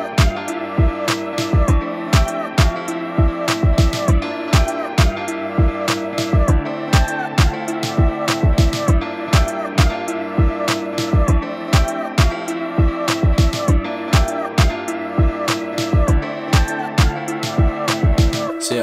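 A full Mo Stack type Afro dancehall beat with kicks, snares and percussion in a bouncy syncopated groove over sustained melodic layers, dense and loud throughout, with no voices.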